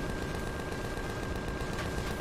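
An enemy rocket drone fires at the player in the space survival game Empyrion Galactic Survival, a dense, steady burst of gunfire filling the whole moment at moderate loudness.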